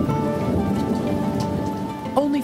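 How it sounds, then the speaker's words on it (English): Heavy summer rain pours onto an outdoor climbing frame in a monkey enclosure, a dense steady hiss of drops hitting surfaces, continuous and close for the whole stretch with a brief louder patter near the end. "Heavy rain falls on the climbing frame."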